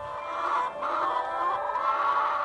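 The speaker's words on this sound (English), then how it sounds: "the domestic hen" Domestic hens clucking in a steady, close murmur of overlapping calls, with no speech.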